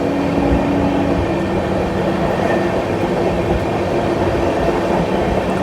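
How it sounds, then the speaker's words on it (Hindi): Odisha Sampark Kranti Express running on the Tatanagar to Delhi route while overtaking the Sikkim Mahananda Express, giving a steady loud rumble of wheels and carriages throughout, with continuous rail noise and no talk. "ये हो रहा सिक्किम महानंदा का ओवरटेक"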